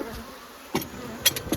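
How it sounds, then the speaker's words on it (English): Honeybees in a hive box buzz in short, close passes over a quiet background hum, a few sharp buzzing bursts standing out. "That's a box of bees."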